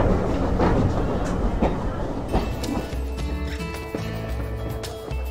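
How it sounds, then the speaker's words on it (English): A heritage train on the East Somerset Railway rumbles steadily with low engine drone, clanks and creaks as it departs Cranmore station, heard from on board. "There we go, I'm on the train, about to depart"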